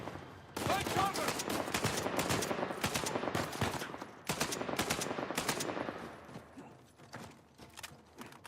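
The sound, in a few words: sniper gunfire in Uncharted 4 video game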